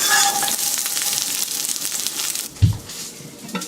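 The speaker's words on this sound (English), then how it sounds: "when you sear the ginger and the garlic, it'll bring out more flavor in the soup" Ginger and garlic searing in a pan, a steady close sizzle and crackle of frying with a brief stirring scrape near the end.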